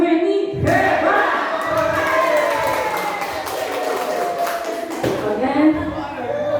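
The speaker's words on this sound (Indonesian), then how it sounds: "Bagus, tepuk hebat untuk Bu Meni." A school audience applauds and cheers at an assembly, a burst of clapping and shouting that swells and carries on under a voice leading the cheer.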